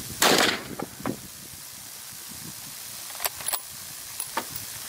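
A single sharp gunshot cracks close by right at the start, followed by a few faint clicks and small knocks over low ambient hiss.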